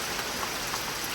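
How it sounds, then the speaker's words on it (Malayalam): Rain falling steadily again during a break in the weather, a soft even hiss of drops on surfaces with faint patters, fairly quiet and without voices. "മഴ കഴിഞ്ഞിട്ട് ഗൈസ് പിന്നെയും മഴ കൂടി."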